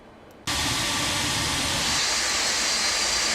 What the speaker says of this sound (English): when I say flyby, if you're wearing headphones, just watch out